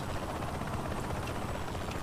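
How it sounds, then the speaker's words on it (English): Helicopter rotor and engine noise from the video game Saints Row The Third, a steady low chopping drone that stays constant for the whole two seconds at moderate level, with no talk over it. "there's still a chopper, but it's not shooting me"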